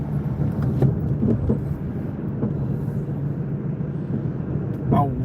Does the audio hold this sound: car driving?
yes